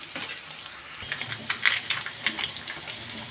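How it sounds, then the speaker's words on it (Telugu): Ginger paste stirred into onions frying red in a pan for Andhra-style fish curry, steady sizzle and crackle with scraping spoon strokes, close-up, no talking. "అల్లం పేస్ట్ వేసుకొని బాగా కలుపు"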